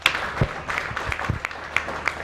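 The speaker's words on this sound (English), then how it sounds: "let's give her a round of applause for that" A small audience at a charity giving celebration applauds in sparse, uneven claps, individual hand strikes standing out over a thin background.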